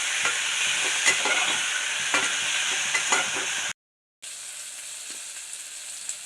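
Sliced tomato sizzles and crackles in a pan of hot oil as it is stirred, a steady bright frying hiss broken by a brief gap, with occasional scraping.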